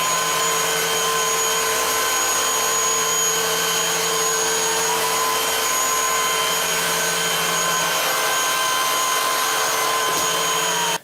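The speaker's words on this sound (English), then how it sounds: "So now I'm gonna do the same test on hard floor and see how they do." A cordless vacuum cleaner on a hard floor picks up popcorn with a continuous loud, steady whine and rushing airflow, running close for the whole stretch before cutting off at the end.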